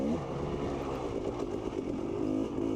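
A dirt bike runs a race lap on tacky dirt, its engine note climbing and dropping in steady revving bursts with rattling clatter. The sound is moderate and continuous.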